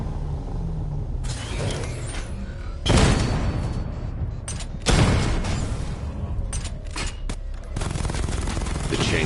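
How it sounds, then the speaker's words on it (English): A chain gun fires in Batman: Arkham Knight as loud sustained rattling bursts over a rumbling vehicle engine and mechanical whirring, with two heavy surges of fire standing out midway. "The chain gun's not powerful enough."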